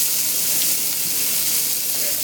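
Green pepper and onion sizzling in a hot pan for Jamaican curry shrimp, a dense, loud, continuous hiss that stays even from start to finish.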